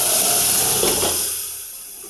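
Dal tadka tempering hitting hot oil gives off a loud, broad steamy hiss that stays steady and close, then fades slightly toward the end, with no talking.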